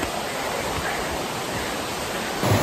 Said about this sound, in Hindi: यहाँ पे वाटरफॉल का इतना ज़्यादा साउंड है